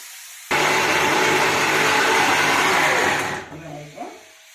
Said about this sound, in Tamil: மிக்சியில் போட்டு கிரைண்ட் பண்ணிக்கலாம்